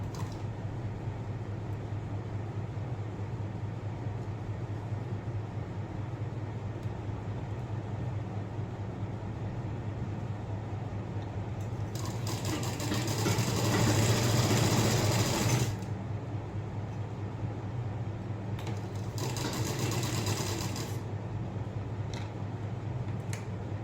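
A sewing machine stitches a blouse in two short bursts of rapid mechanical chatter, one lasting about four seconds and a shorter one later, over a quiet room hum.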